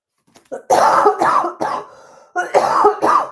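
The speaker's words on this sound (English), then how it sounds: "No, it's not the prettiest cough there." A few harsh, close coughs and throat-clearing bursts come in quick succession, with a short pause between groups.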